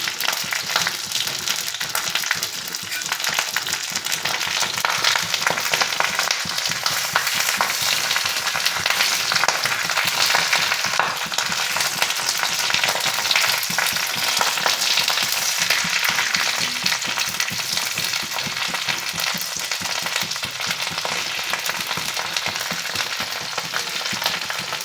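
Food fries steadily in a pan after being turned over, a close, dense sizzle with fine crackling that holds at an even level throughout, with no voices.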